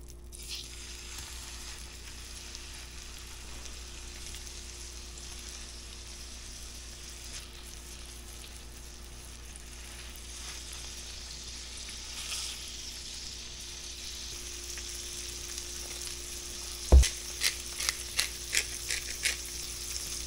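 Summer flounder fillets fry steadily in a pan of olive oil and butter over medium-high heat, a soft continuous sizzle and crackle, with a few light clicks and taps toward the end.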